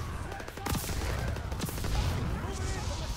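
Gunfire in the video game Call of Duty WW2 crackles in dense overlapping bursts, with a few sharp shots standing out against a loud, continuous battle din.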